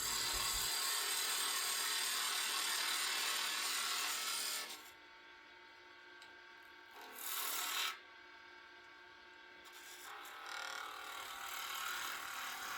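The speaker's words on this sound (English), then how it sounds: "When I'm planing with a skew, I'm trying to go at a bit of a less angle where I hold the tool flatter to the wood" A skew chisel planes shavings off a turned wooden tool handle on a lathe, a loud continuous rasping hiss that drops away, returns in a short burst, then resumes, close up with no voices.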